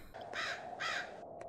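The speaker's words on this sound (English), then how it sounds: "Loud birds" Crows caw loudly in the video game White Mirror, two long harsh calls in quick succession over a low steady hum, followed by a couple of short clicks.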